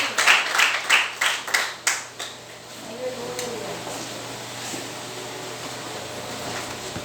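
A short burst of rhythmic clapping at a church worship service, about a dozen quick claps, fades into a room murmur with faint voices.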